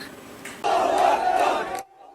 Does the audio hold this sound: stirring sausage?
no